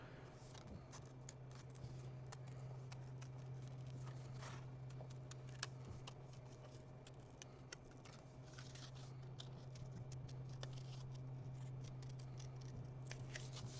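Scissors snip through paper as blue shapes are cut out for an art workshop, a quiet run of small irregular crisp snips over a steady low electrical hum.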